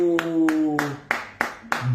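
Sparse, rhythmic clapping of about six claps, sharp and fairly close, over a held tone in a French children's cooking show.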